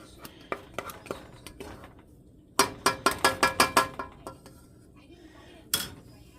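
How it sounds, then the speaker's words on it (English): A metal spoon scrapes and clacks around a pan of thick creamed chicken, giving sharp close clinks. They come scattered at first, then as a rapid burst of strokes, with a final knock near the end. "let's get this spoon to pull it in the middle here"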